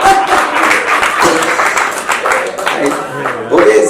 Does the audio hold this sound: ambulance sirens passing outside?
no